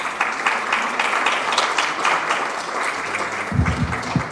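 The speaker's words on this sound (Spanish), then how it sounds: "Un aplauso más fuerte, por favor." Steady applause from a crowd at a pulmonary hypertension medical symposium, dense and continuous, with a voice briefly starting to speak near the end.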